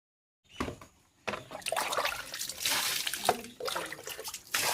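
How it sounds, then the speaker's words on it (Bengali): Stairs being washed with water, starting after a brief silence with splashing, pouring and trickling that rises and falls in bursts, close and moderately loud, no talk. "সিঁড়িগুলোকেও এখন জল দিয়ে ধুয়ে পরিষ্কার করে দেব।"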